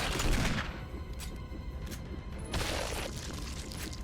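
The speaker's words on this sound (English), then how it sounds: "Jill, stop shooting the sky!" Rapid gunfire bursts from the video game Resident Evil HD Remaster, loud and dense with booming reports, in two heavy volleys separated by a slightly lighter stretch, with no talking.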